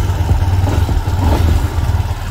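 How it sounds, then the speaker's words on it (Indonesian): A motorcycle engine catches and settles into a steady idle, a close, even mid-pitched putter with light mechanical clatter running throughout. "So kita start dulu motor kita macam biasa"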